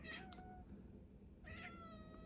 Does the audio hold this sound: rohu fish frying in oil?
no